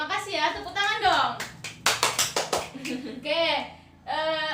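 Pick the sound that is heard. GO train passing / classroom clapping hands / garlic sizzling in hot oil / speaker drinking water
classroom clapping hands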